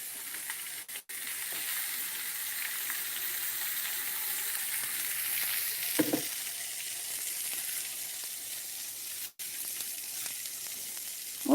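Sweet onion sizzles in a hot frying pan with a steady, close hiss and crackle, broken by a few brief clatters and stirring knocks, no talk over it.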